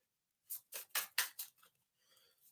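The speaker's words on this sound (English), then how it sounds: "I'm not the best at shuffling" A deck of tarot cards is shuffled by hand in five quick, crisp riffling bursts, close and clear, trailing off into a couple of softer rustles.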